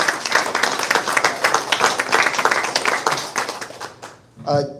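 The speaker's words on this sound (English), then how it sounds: "I just want to give a big round of applause for Mateo" Applause breaks out for a student fundraiser at a school board meeting, dense clapping from a room of people for about four seconds before fading, followed by a brief voice.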